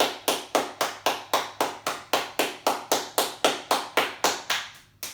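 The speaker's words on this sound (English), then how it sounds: "tap from your shoulder, down your arm, to your wrists, and clap your hands" A single person taps their own hands briskly down the arm from shoulder to wrist and then claps during a healing yoga session, making about twenty sharp, evenly spaced close slaps in a steady rhythm with no talk.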